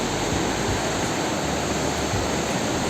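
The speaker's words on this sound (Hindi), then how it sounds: "अभी मैं आपको जिस नदी को दिखा रहा हूँ ये है भागीरथी।" The Bhagirathi river flowing, a steady loud broadband rush of water like a torrent or cascade, continuous and unbroken with no voices.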